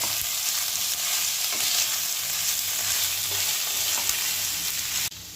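Vegetables tossed with salt in a frying pan give a loud, continuous close sizzle with steady stirring scrapes, cutting off abruptly near the end.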